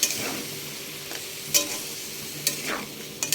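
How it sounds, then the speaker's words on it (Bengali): Vegetables with a little water stirred in a pan while cooking Bengali shukto: soft sizzling under scraping spoon strokes, with a few sharper clatters against the pan, close and fairly quiet. "সামান্য একটু জল দিয়ে এবারে নাড়বো, ভালো করে মিশিয়ে নেব।"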